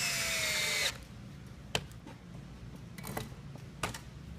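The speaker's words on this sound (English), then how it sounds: "Run a couple of screws in to hold it in place." A screw being driven into a rotary table by a power driver, a loud close whirring burst that stops after about a second, followed by a few sharp clicks and knocks over quiet room tone.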